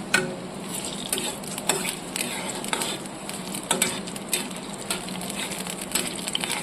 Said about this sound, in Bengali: তেল গরম হয়ে এসছে, আমি ফোড়ন দিয়ে দিচ্ছি।